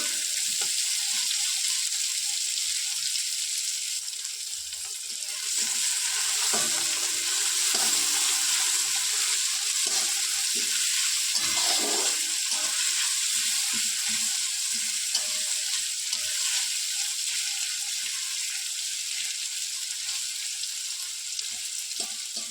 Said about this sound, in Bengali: আচ্ছা একটু লাল লাল করে ভেজে নেব